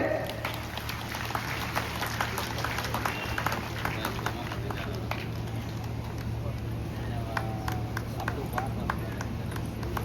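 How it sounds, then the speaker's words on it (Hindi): Applause rises at a Catholic women's association annual general meeting in Gumla as guests are honoured, a sustained patter of many hands over a steady hum, with voices talking through it. "जोर से ताली बजाइए"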